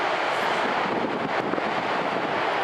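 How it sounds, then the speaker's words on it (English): Steady, loud wind buffets the microphone on the Oregon coast, a continuous broadband roar with slight gusting and possible surf beneath, no voices. "It was windy today, still windy and a little cold."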